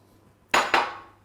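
A sauté pan set down on the stove while cooking sauce for Hutsul-style stuffed cabbage rolls: two quick close metallic knocks about a fifth of a second apart, each ringing briefly before fading, against near-silence.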